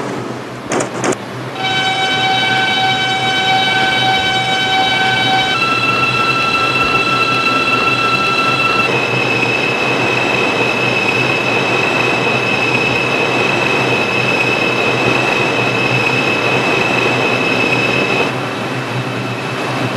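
An R142 subway train on the 6 local departs a station, a door chime giving way to rising stepped electric motor whines over a steady rolling rumble, loud and close, then settling.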